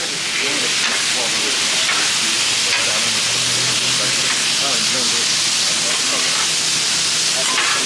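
Pasta tossed in Italian sear-and-serve sauce is stirred and fried on a Blackstone griddle, giving a steady, loud sizzle and hiss with scraping stir sounds throughout, close up and without speech.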